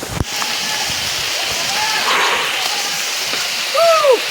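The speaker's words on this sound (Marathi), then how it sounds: "पाऊस तर एकदम जोरदार चालू झाला आहे" Dense, steady hiss of heavy monsoon rain pouring all around on a walking trail to Barki waterfall, with a brief knock at the start and faint chirping calls near the end.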